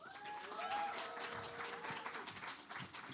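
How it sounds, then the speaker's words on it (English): Applause from a seated audience at a young social enterprise campaign launch, for the Tani Panen team. Steady, moderately loud clapping fills the room throughout with no voices on top. "let's give a big round of applause for Tani Panen"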